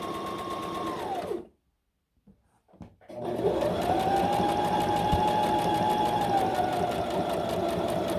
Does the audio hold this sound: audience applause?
no